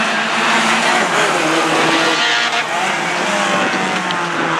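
A pack of Hornet class race cars roars off the green flag to start a heat, engines loud and layered with some tire squeal, a steady dense racing din.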